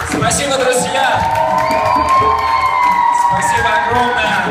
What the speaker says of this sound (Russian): Спасибо огромное. Аплодисменты.